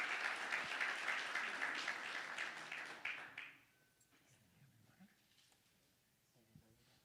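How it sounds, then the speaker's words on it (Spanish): A church congregation claps for a woman about to preach, in a fairly loud, even round of applause that stops abruptly partway through and leaves quiet room sound with a few faint murmurs. "así que démosle un aplauso al Señor por ella"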